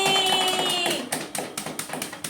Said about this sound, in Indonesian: Tepuk tangan dulu buat Sauki